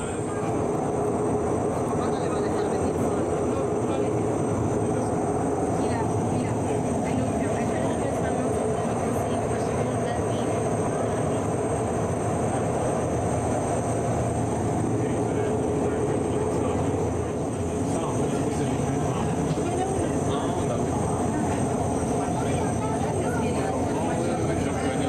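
A Montreal REM light rail train travels along an elevated section over rail yards, giving a sustained rumbling roar with a high electric whine that stays loud throughout.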